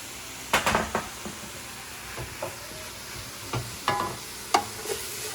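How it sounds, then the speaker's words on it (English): Garlic and vegetables sizzle softly in a pan under steady frying hiss, while a spoon or spatula scrapes and knocks against the pan in several sharp, irregular clatters nearby, with no talking. "so just keep stirring this. We don't want the garlic to burn."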